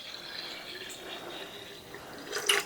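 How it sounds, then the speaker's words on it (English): Water pours into a gallon jar of kombucha with a faint, steady trickle, then a brief louder splash near the end, heard from close by in a quiet kitchen. "I can go ahead and add some more water"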